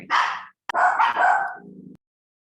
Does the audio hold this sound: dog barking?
yes